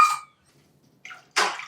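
Water poured by the cup into a pot to make jowar-flour chakli dough, short splashy pours separated by pauses, near and clear with no talk.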